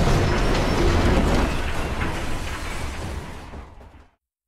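A train rumbles loudly in the World's End Club video game, a dense roar with rattling clatter that fades away after about three seconds and ends in silence.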